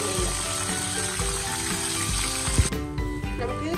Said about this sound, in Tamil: இப்போது தேவையான அளவு நெய் ஊற்றி முந்திரி பருப்பு முந்திரி பருப்பு திராட்சையும் கழுவிட்டு பொறிக்கிறேன்